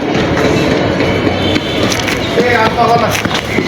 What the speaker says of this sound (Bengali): যে ট্রেন ঢুকেছে ট্রেন ছেড়ে গেল